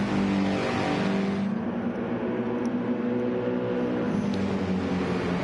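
Race cars in Gran Turismo 7 lapping the Daytona road course, a continuous loud engine drone with sustained high revving and a slight shift in pitch as they sweep through a banked corner, no voices.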